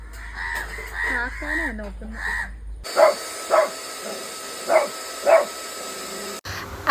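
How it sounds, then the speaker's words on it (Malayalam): A dog barks at a running vacuum cleaner, giving four sharp, separate barks over a steady background hum. "കുരച്ച് മനുഷ്യനെ ചെവി തന്നെ തരത്തില്ല"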